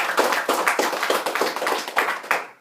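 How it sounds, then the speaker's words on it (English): A small audience claps in a steady, fairly close burst of applause lasting a few seconds, the individual hand claps distinct and rhythmic before stopping abruptly. "Let's give a big round of applause for each one of us."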